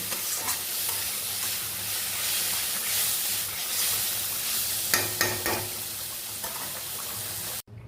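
Sweet bitter gourd (karela) and mixed vegetables are stir-fried in a pan over lowered gas, with a steady close sizzle and hiss broken by a few scraping stirs and clinks near the end.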